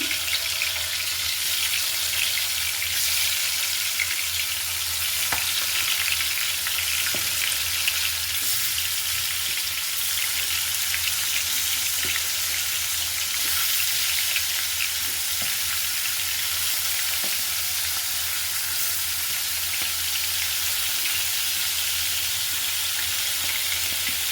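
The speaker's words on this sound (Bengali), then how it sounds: "মাছগুলোকে আমি হালকা ভেজে নিব" Singhi catfish, salted and cleaned, lightly frying in hot oil, giving a steady dense sizzle throughout with a few faint clicks and taps, no voices.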